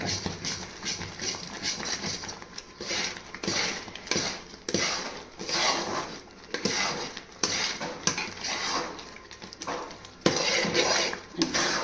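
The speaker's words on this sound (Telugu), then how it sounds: "ఎంత కలుపుకుంటే అంత బాగా పాకం వస్తుంది అన్నమాట. బాగా కలుపుతూ ఉండాలి." Sugar syrup stirred with ghee in a pot, a half-kilo batch, gives steady scraping and clinking of a spoon against metal, close and continuous with uneven rhythmic strokes, no talking.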